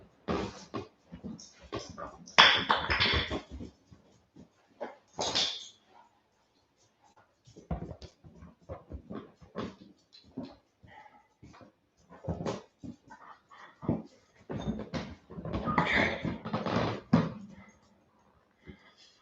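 Several small dogs whimper, whine and give short yaps close by in a quiet room, in scattered bursts with pauses between them, and a person talks softly at times.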